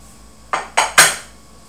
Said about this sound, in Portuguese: Agora eu vou passar o café agora, para daqui a pouco passar para dentro.